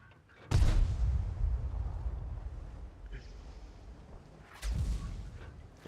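Tank cannon shots in World of Tanks, two heavy booming blasts a few seconds apart, each with a rumbling decay, over quiet game background.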